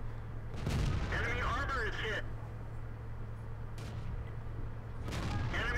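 Tank cannon shots in World of Tanks, sharp booming reports near the start and again near the end, with game engine rumble underneath and someone talking over the action.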